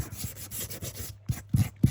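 A small tool scrapes and rubs against a surface in short, rhythmic strokes, a few louder scuffs near the end, close up and with no talking.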